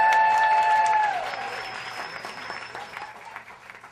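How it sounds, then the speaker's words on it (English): A storytelling event audience applauds for a performer, many hands clapping steadily under a fading sustained musical tone, loud at first and tapering slightly toward the end. "So I want you to applaud for Glenn."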